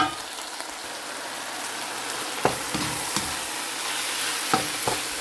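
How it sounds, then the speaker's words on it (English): Eggs and vegetables stir-fried with soy sauce in a pan, a steady close sizzle broken by several sharp scrapes and clacks of a utensil stirring, with no talking. "So we are going to mix all together wonderfully."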